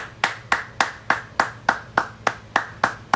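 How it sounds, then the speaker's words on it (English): Hand clapping repeats at a steady, even pace, about eleven sharp, close claps over a few seconds with no other sound. "I'm gonna be clapping for a while now."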